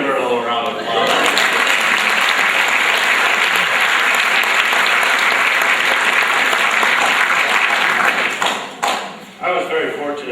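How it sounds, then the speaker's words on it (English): Sustained applause from a crowd at a spring sports awards ceremony, loud and dense for most of the stretch, thinning briefly near the end, with a voice heard at the start and as the clapping fades. "Why don't we give her a little round of applause?"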